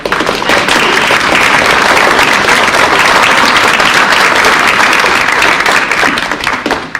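Loud, sustained applause from the audience at a Girl Scouts Gold and Silver Award ceremony honoring volunteers and families, dense clapping that stays close and full before easing slightly at the end.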